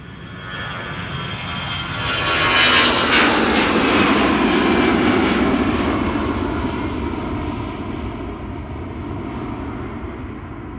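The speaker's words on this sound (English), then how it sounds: "KLM flight 705, a 777-200 KLM Asia, going to Rio de Janeiro" A KLM Boeing 777-200 jet airliner departing Amsterdam Schiphol airport roars steadily, building to a loud peak as it passes, then slowly fading into a broad distant rumble.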